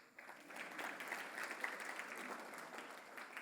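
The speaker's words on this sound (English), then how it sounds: "you can applaud." Audience applause at the KZN Top Business Awards 2024, a brief, moderate burst of clapping from a seated crowd, fairly even throughout.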